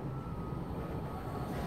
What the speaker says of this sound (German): Hier kommt ein Zug.